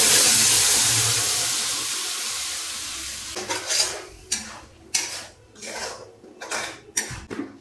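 Potato pieces with turmeric sizzle in a hot pan at first, then a spatula scrapes and stirs them in a series of irregular, close metallic strokes.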